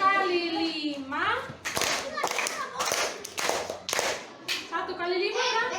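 A classroom counting game where children clap their hands: a burst of about five or six crisp, close claps in a quick rhythm, set between an adult speaking before and after.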